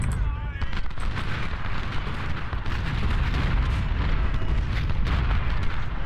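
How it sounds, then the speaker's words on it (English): Musket volleys and artillery booms in the Ultimate General Civil War battle at Malvern Hill, a dense rumbling roar of massed gunfire with a person talking over it. "It's a big volley over there."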